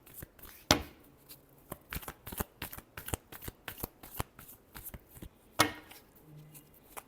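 A deck of tarot cards is shuffled by hand, a quick run of crisp riffles and slaps with two louder snaps where the deck is squared, heard close and clear with no talking.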